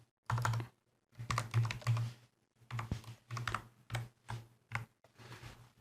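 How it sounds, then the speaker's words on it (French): Computer keyboard keys typed in short irregular bursts of clicks, close and distinct against near silence, as math is entered into a LaTeX document; no talking. "Je peux aller taper des maths hein, si j'ai envie. On tape un peu n'importe quoi."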